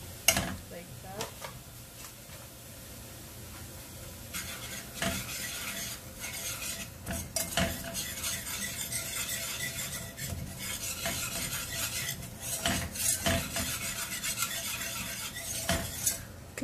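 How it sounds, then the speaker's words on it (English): A spoon stirs white sauce for spaghetti in a pan, repeated scraping strokes and light metallic clinks over a faint sizzle, close and steady with no clear speech. "stir it gradually, like that"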